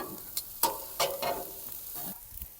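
Chicken kottu mixture frying with soy sauce, stirred in a pan: a soft steady sizzle broken by several sharp scraping and clattering strokes of the utensil, close and fairly quiet.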